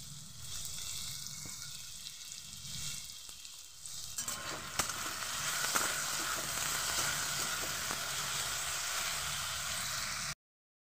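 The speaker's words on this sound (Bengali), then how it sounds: "আমি এখানে কেটে রেখেছিলাম 2টো আলু, ভেজে নেব।" Two cut potatoes frying in a pan with salt, a soft sizzle that swells into a louder, steady close frying hiss partway through, then cuts off abruptly, with no voices.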